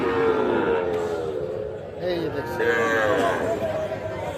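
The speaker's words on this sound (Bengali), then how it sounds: "গরুটা কিন্তু বেশ সুন্দর আছে" A Sahiwal bull calf at a cattle market gives several close, loud moos, with people talking nearby at a livestock market.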